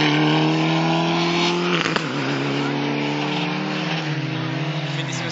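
A rear-wheel-drive rally car at the ADAC Grabfeld Rallye near Sulzdorf roars close by, its engine note dropping abruptly under braking with a crackle, then climbing again as it accelerates away, with voices talking over it.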